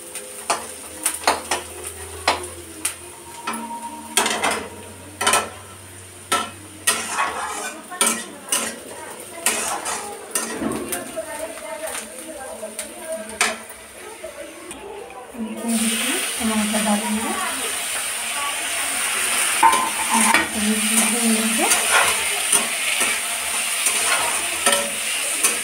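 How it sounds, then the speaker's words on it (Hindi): A spice tadka in a pan opens with a string of sharp metal clinks and spoon scrapes. It then breaks into a loud, continuous sizzle as the tempering hits the hot oil and is stirred, with no speech. "मैं तड़का बना रही हूँ।"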